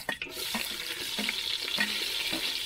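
Onions hit hot oil in a pan and are stirred while cooking a spicy village-style dry chicken outdoors on a farm at night: a steady close sizzle with repeated scraping stirs every half second or so.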